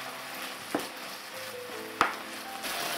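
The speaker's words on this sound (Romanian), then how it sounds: "După ce se călește bine carnea, vom pune și ceapă, vom pune legume." Pork neck fries in a pan with a steady, soft sizzle, broken by two sharp utensil clinks against the pan, and no talking.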